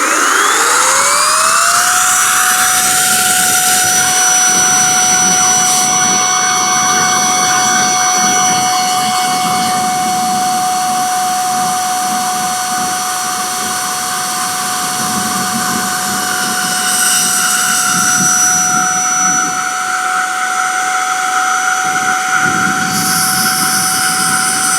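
A Mellif cordless air blower, Makita battery compatible, spins up with a rising whine and then holds a loud, steady high-pitched roar of rushing air close by.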